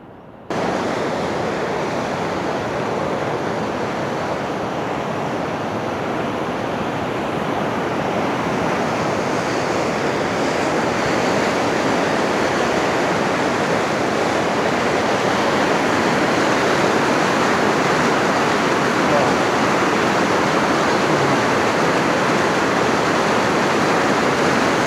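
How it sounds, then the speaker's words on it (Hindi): Loud, steady rushing of river water in monsoon-season Swat fills the whole stretch, a dense continuous roar with no pauses and no voices. "क्योंकि पानी का इतना तगड़ा शोर है"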